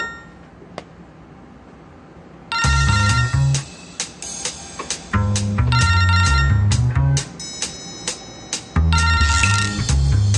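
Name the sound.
telephone ringing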